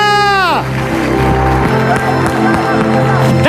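Church congregation cheering and applauding loudly during a worship service, a dense wash of crowd noise with whoops and sustained tones, continuous for several seconds.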